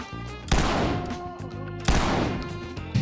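Gunfire in the tactical shooter Ready or Not: two loud, sharp shots about a second and a half apart, each with a rolling echo tail, then the start of a third at the end, with no talking.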